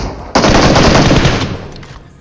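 Sustained automatic gunfire in the PUBG Mobile video game as a bot is finished off, a dense, loud burst starting abruptly and rattling on continuously for nearly two seconds before trailing off.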